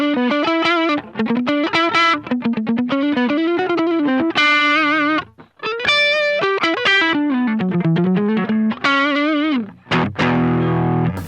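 Electric guitar through a JHS Morning Glory V4 overdrive pedal with the tone knob rolled down, playing a loud, lightly driven melodic riff of picked single notes and slides with warm, darkened highs and no talking.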